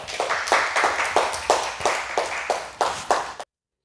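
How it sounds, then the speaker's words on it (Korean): A church congregation at a Wednesday service claps in rhythmic unison, about a dozen sharp even beats that stop abruptly, close and loud. "하나님께 영광의 박수 올려드리겠습니다"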